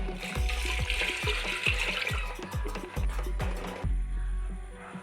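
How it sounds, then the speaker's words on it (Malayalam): Water pours into a pressure cooker holding cowpeas with salt, chili powder and turmeric for erissery, splashing steadily and fairly close with soft rhythmic knocks before stopping abruptly near the end. "ഇനി ആവശ്യത്തിന് വെള്ളം."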